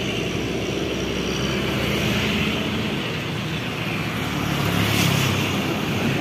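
A bus rumbles past at night while leaving a toll road exit in Brebes, Indonesia, a loud, steady engine roar with broadband road noise that swells slightly midway, heard without speech.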